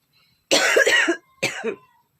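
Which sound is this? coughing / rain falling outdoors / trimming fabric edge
coughing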